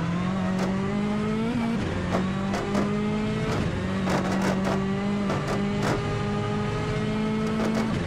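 Rally car at full throttle in the Richard Burns Rally video game, a loud sustained engine drone that steps up through quick gear changes, with a steady rising pitch and constant close-up intensity.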